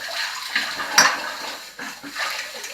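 Tap water runs and splashes over dishes at a kitchen sink, with brief rushes of flow, a clink of crockery and cutlery, and pauses as the stream is held and released, close and fairly loud.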